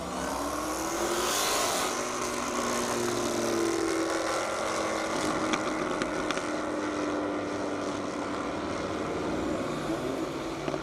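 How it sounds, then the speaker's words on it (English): A 2019 Dodge Challenger Red Eye and a 2016 Dodge Challenger drag racing on a half-mile airport strip in Indiana, their engines a sustained loud roar that swells and holds for the whole stretch, with no talk. "we have Trey Ressler in a 2019 Hodge Challenger Red Eye, and James Boulos in a 2016 Dodge Challenger"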